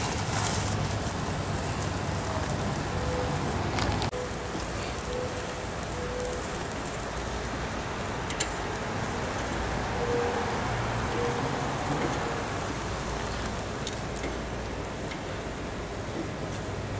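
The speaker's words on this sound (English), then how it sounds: "And here comes the rain." Rain falls in a steady, even hiss of drops on surfaces outdoors as storms arrive, moderately loud and unbroken, with a few faint distant knocks and no talk.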